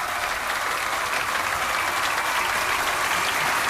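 Studio audience giving a guest a round of applause during a live radio show, a full, steady roar of clapping that stays loud and even from start to finish.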